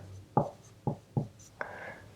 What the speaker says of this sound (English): So I'd write a sentence like, we can buy